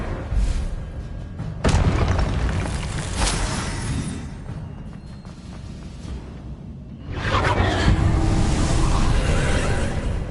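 Spell blasts in the Hogwarts Legacy video game: a sharp whooshing burst followed by rumbling booms and a sustained roar, then a quieter lull before another loud swelling blast, close and dense throughout.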